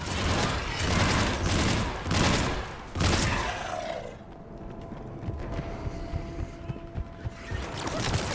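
Missile launches and gunfire in the video game Mass Effect 3 come as a dense, loud barrage of blasts and rattling fire, then drop off partway into a lower mechanical rumble with scattered impacts.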